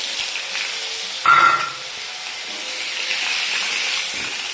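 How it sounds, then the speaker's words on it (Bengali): Pointed gourd (potol) fries in hot oil, giving a steady hiss of sizzling that swells briefly with a louder burst of spatter near the start, close and continuous. "পটল দিয়ে দিয়েছি, পটল ভাজছি এখন।"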